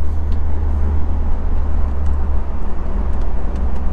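A Mercedes SLK 230K (R170) convertible cruises along a road, heard as a steady low engine and road rumble with wind noise, close and constant, without speech.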